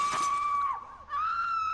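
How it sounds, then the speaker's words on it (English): People scream in Goat Simulator after glass breaks, a sustained high shriek that briefly dips and then resumes, loud and close, with no talking. "people just start screaming"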